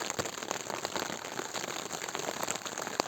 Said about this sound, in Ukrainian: Дощик почався ночі. Він так падає, падає.